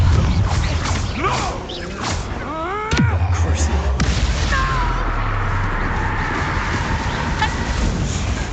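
Bombardo and Confringo spells detonate in the Hogwarts Legacy video game, producing sharp blasts and crackling bursts amid swooping magical tones, with game voices heard around them.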